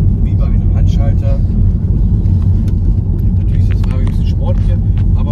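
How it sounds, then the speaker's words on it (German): A 2023 Toyota Supra 3.0 GR engine in sport mode holds higher revs through the gears on a rough road, making a loud continuous rumble while a person talks over it. "Ich bin jetzt zum Beispiel im Sportmodus, deswegen dreht das Auto die Gänge etwas höher aus."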